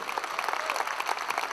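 A concert audience at Sala Palatului applauds in a brief burst of dense, uneven clapping at moderate loudness, with a faint voice briefly audible underneath.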